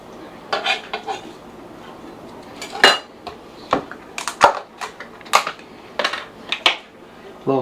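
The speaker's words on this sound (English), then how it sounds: "mash it up, mix that butter in there." Butter being mashed and mixed into meatloaf ingredients in a bowl, with irregular clinks and scrapes of utensil against the bowl in uneven bursts, close and moderately loud.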